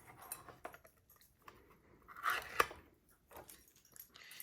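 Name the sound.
opening cans of pineapple chunks or slices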